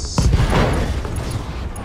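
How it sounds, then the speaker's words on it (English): A loud, booming explosion in the mech combat game RogueTech, with a sharp onset that rolls into a long, dense rumble lasting well beyond two seconds. "But we get an explosion again."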